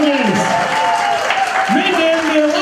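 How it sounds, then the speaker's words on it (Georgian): An audience applauds at a Grade 4 farewell at Public School 119. Steady, dense clapping fills the whole stretch, with a sustained tonal voice or music line carried over it. "ამიტომ კიდევ ერთხელ ოვაციები პედაგოგებს."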